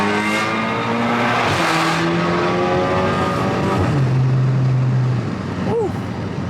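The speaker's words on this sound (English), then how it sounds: "So we got a bridge coming up, so I'll do a little wide open throttle here." A Stage 2 tuned Audi A3 at wide open throttle, its engine loud and close as the revs climb steadily through gear changes, with a brief drop and rise near the end.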